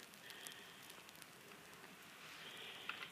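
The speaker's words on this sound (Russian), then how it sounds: "Вон какой дождь идет." Rain falls steadily outside a garden greenhouse, a faint, even hiss of drops pattering on surfaces, with a few sharper nearby drips.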